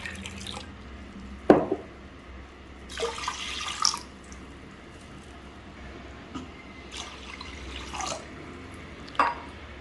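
Water is poured in intermittent splashing bursts onto soaked Chettinad kavuni black rice in a pressure cooker, with drips and short trickles between the pours in a quiet kitchen.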